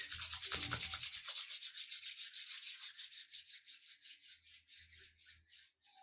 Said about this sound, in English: rubbing your palms together, creating friction and heat